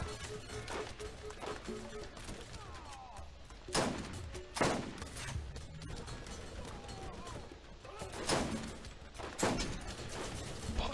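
Gunfire in the shooter game Borderlands, scattered sharp shots and short bursts at moderate volume, spaced irregularly over several seconds, with players talking in between.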